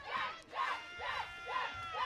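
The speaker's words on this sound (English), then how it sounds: "And the cheer of Jack from the students." Students cheering at a high school 9-man football game between Kenmare-BC and L&C Berthold, a crowd chanting in repeated rhythmic bursts about twice a second, moderately distant.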